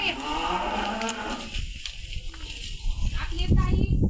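Cows mooing in a cattle shed on a farm where calves have just been born, with deep, drawn-out lowing close by and people talking over the animals throughout.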